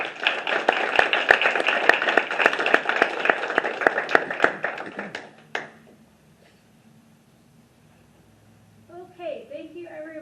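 A crowd at an open mic reading claps and applauds loudly for several seconds before the applause dies away, leaving near silence until a voice starts speaking.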